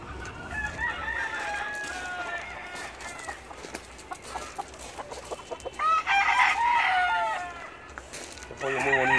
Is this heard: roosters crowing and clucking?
yes